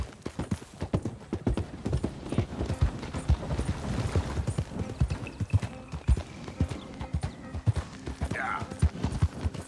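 Horse hooves clip-clop steadily under a rider in Red Dead Redemption 2, a dense close rhythm running throughout, with a brief whinny near the end.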